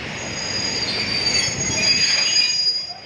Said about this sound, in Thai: ขบวนรถไฟ